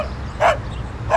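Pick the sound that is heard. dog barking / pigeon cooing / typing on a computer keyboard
dog barking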